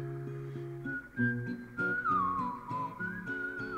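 Someone whistles a short, wavering tune, the clear tone gliding up and down over soft background music.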